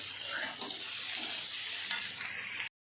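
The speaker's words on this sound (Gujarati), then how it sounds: "હવે તેને આ રીતે મિક્સ કરી લઈશું આપણે" Potatoes tossed with fennel seeds, rock salt and sugar in a pan give a soft, hissing sizzle with light stirring scrapes. The sound is close and steady for a few seconds, then stops abruptly.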